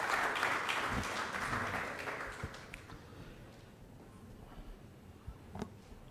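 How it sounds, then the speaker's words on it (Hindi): Audience applause at a formal gathering as a retired deputy secretary and guest of honour comes to the dais: a dense burst of clapping in the first seconds that thins into scattered claps and fades. "तब तक तालियां बजती रहें"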